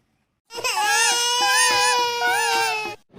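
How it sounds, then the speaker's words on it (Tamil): A baby cries loudly and close by in one long, unbroken wail with a wavering pitch, then stops abruptly. "என்னங்க குழந்தை அழுதுங்க கொஞ்சம் தொட்டில ஆட்டி விடுங்க"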